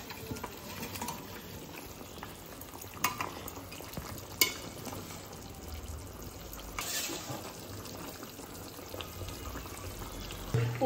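Fried fish goes into a simmering village-style curry with slit green chilies, followed by soft bubbling and a quiet sizzle, broken by occasional stirring knocks and scrapes against the pot.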